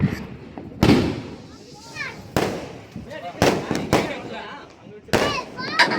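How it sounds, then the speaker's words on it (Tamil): Diwali firecrackers burst outdoors in sharp, loud bangs, four or five separate blasts spaced a second or two apart, with people talking and reacting between them. "பட்டாசு வெடிக்கும் போது"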